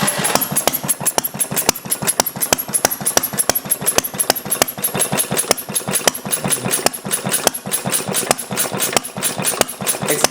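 A Briggs & Stratton small engine fitted with a glass cylinder head runs steadily at idle, its rapid, even firing pulses ticking close and loud with a light mechanical clatter throughout.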